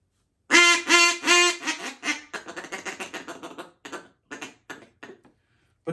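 A person imitates a mallard duck's deeper quack call, starting with several long, loud, drawn-out quacks and trailing into a rapid series of shorter, fading quacks, heard alone.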